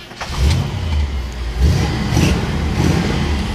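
A 1957 Chevrolet Handyman wagon with a small-block engine and dual glass-pack exhausts cranks and fires up, then revs in a couple of throaty bursts before settling into a loud, rumbling idle close by.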